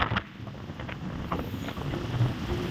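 Strong cold wind at Pagudpud beach resort in Ilocos Norte buffets the microphone in a steady low roar with gusty swells, close and fairly loud, with no voices.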